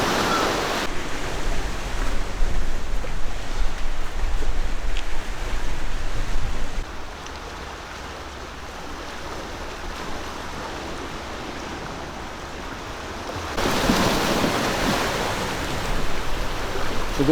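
Waves break and wash along the East Sea shoreline on a coastal walking path, a continuous rushing surf that swells louder at the start and again near the end, with no voices over it.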